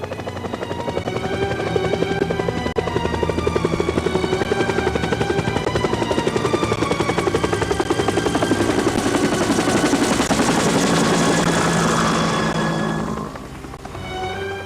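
British Army military helicopters' rotors thump steadily and loudly overhead for most of the stretch, then fade away toward the end.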